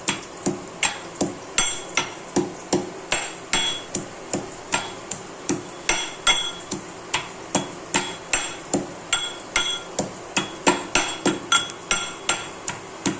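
Garlic being pounded in a mortar and pestle, a steady run of sharp, evenly spaced knocks, close and fairly loud with no talk.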